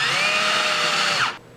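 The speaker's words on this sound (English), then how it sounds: "then drill 2 holes so that I can mount it sideways" A power drill bores holes into an electrical box, a loud steady high whine held close for over a second, then stopping abruptly and leaving quiet room tone.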